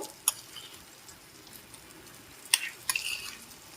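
Rohu fish curry stirred in a pan just after mustard paste goes in: faint, soft scraping and a few sharp spoon clicks over a low background, no talking.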